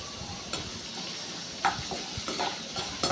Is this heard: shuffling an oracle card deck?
no